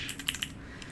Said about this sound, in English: this is one of my favorite desk fidgets just because you can aimlessly tap the satisfying buttons